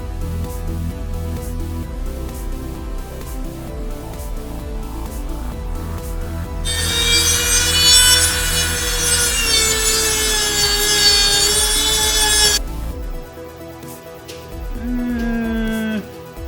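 A hand saw cuts through an aluminum plate being shaped into a sprocket hub, each stroke a rhythmic rasp, with a loud, bright, sustained squeal midway, all close and with no voices.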